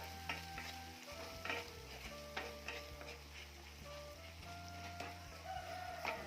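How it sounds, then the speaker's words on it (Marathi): Kolhapuri onion-garlic masala frying in oil for a potato curry, with a steady low sizzle under repeated scraping and stirring strokes of a spoon against the pan. "कोल्हापुरी चटणी म्हणजेच मसाला तेलावर चांगला परतून घ्यायचा"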